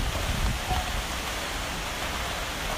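Steady rain falling outdoors on a patio workspace during a plastic table painting project, a dense continuous wash of drops hitting surfaces close by, loud and unbroken with no talk.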